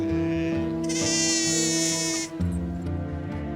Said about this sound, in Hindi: ये जो भेड़ें इधर से उधर जब चल रही हैं तो इनकी घंटियों की बजने की आवाज़ आ रही है